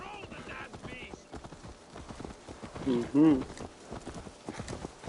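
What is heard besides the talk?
horse hooves clip-clopping in video game Assassin's Creed Valhalla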